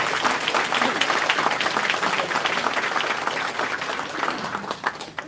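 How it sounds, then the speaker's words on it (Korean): Party members at a regional members' convention applauding newly introduced officials, a sustained dense roar of clapping from a large hall, easing slightly near the end with a few scattered voices underneath. "박수로 또 환영해 주십시오"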